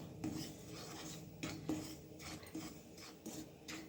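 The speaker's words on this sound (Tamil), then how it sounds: "அரிசி மாவை சேர்த்து வறுத்துப்போம்" Rice flour roasting in a pan for kozhukattai, stirred with a utensil that scrapes and taps against the metal in close, quiet, irregular strokes.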